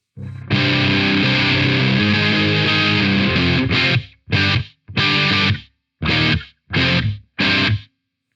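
A long ringing electric guitar chord through a Joyo Taichi distortion pedal, followed by a series of short, punchy chord stabs with brief gaps of silence between them.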